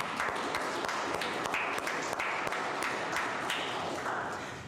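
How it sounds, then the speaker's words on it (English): A congregation applauds together in a dense, steady wash of many hands, moderately loud and fairly close, tapering slightly at the end. "Can we applaud?"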